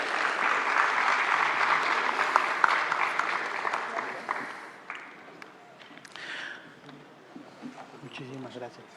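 Audience applause at a labour law congress award ceremony, loud sustained clapping from a hall crowd for several seconds that fades midway, after which a voice speaks over lingering scattered claps.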